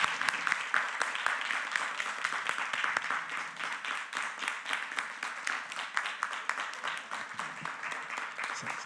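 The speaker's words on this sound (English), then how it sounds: "a round of applause" Sustained applause from an audience at a school board meeting, a dense, steady wash of many hands clapping for about nine seconds with no speech over it.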